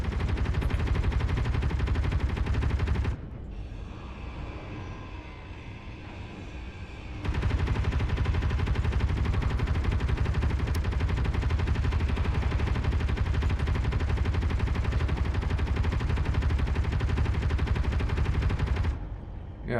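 Rapid automatic turret fire in the game Space Engineers, loud continuous bursts running for several seconds, a brief lull, then a long sustained stream of shots.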